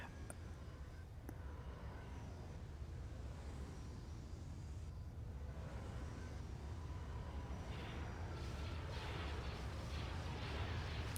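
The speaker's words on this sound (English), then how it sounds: "Ion cannons again." Ion cannons fire during a space battle in Star Wars: Empire at War, a dense, continuous rumbling barrage of heavy booms with bright crackling blasts layered on top, sustained and loud throughout.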